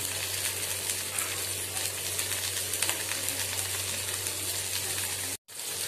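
An egg frying in hot oil gives a steady, loud crackling sizzle that runs without a break before cutting out briefly near the end.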